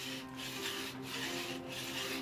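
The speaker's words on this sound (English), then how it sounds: "He does this the traditional way. No chainsaws or power tools, just physical force and a handsaw." A handsaw is drawn back and forth through a block of stone in a workshop in Jincheon, cutting it down for a traditional inkstone. The gritty rasping strokes are steady and even and sound close, with no talking.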